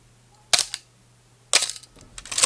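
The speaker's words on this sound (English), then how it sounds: "listen, slower shutter speed" Two crisp mechanical clicks about a second apart, a Canon AE-1 Program film camera shutter opening and closing at a slow speed, followed by faint handling noise.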